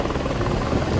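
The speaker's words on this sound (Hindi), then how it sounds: "और बाढ़ में फंसे लोगों के लिए हेलीकॉप्टर को उतार दिया गया।" A rescue helicopter flies over floodwaters in Bihar, its steady rotor drone loud and continuous for the whole second with no break.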